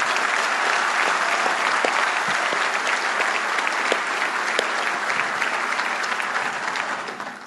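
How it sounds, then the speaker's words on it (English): Sustained, dense applause from a large audience at a military university graduation ceremony, many hands clapping evenly and loudly for several seconds before tapering at the end. "So how about a round of applause for all of our families?"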